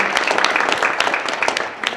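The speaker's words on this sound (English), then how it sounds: "And I better round of applause for all of you" Audience at a middle school STEM panel gives a short round of applause, a moderate patter of many hands clapping at a steady level.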